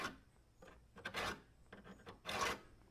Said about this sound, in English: I just scratch into through the powder coating so I get a nice line